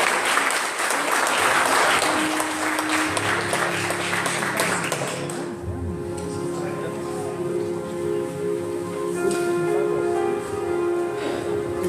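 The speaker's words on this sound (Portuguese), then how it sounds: "Uma salva de palmas para o Senhor." A church congregation claps together in loud, sustained applause for the Lord, which fades after a few seconds into lingering scattered claps beneath a voice and sustained organ or keyboard tones.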